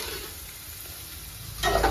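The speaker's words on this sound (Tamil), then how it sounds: "வெங்காயம் போட்டு நல்லா வதக்கலாங்க." Onions sauté in a pan for a fenugreek-leaf kootu, making a soft, steady sizzle with faint stirring. A louder scrape or clatter comes near the end, and no one speaks.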